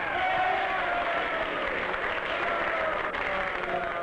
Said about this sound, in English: Lenin, who was greeted with enthusiastic applause as he made his report on the international situation